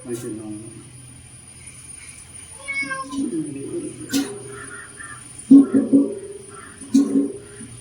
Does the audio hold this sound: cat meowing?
yes